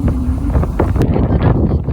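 Strong wind buffets the microphone during a motorbike ride, a loud, rough rush of gusts filling two brief seconds with no talking.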